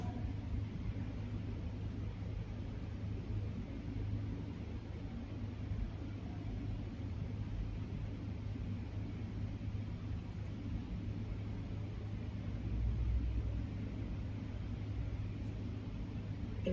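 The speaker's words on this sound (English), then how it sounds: "You can hear traffic." Road traffic rumbles faintly in the distance outside the old Armley Mills industrial museum in Leeds, a steady low drone that swells briefly near the end.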